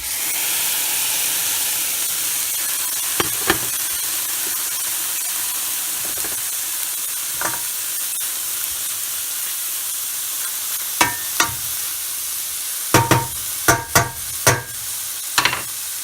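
Mushrooms and onions sizzle over medium heat in a pan for Jägersoße, a steady soft hiss broken by a few sharp clinks of a utensil toward the end.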